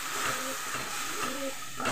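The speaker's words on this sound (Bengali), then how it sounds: "এটা দিয়ে এবার ভালো করে আমি মশলাটাকে কষিয়ে নেব।" Spice paste of ginger, cumin, green and red chillies and garlic fries in a pan, giving a soft, continuous hiss with faint crackles throughout, fairly quiet and close.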